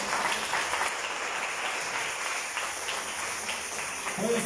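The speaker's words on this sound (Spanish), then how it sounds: "Denle un aplauso al Señor." Congregation applause at a Spanish-language church service, a steady dense wash of clapping held evenly throughout without a break.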